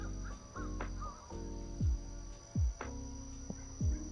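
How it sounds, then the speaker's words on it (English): A crow gives several harsh, descending caws at irregular intervals, fairly near and loud against a quiet outdoor background with a faint hum. "Did you hear that crow? He made a weird noise."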